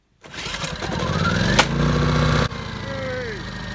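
Small petrol engine on cabin equipment starts at once after a spark plug change and runs at a steady, loud, close idle, with a brief sharp click partway and a slight drop in level before it settles.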